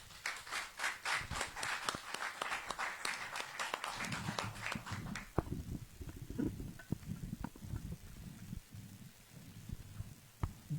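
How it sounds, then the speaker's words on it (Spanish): Applause from an audience at a book presentation, steady clapping for about five seconds that thins into scattered, fading claps with some low room murmur afterward. "a quien recibimos con un fuerte voto de aplauso"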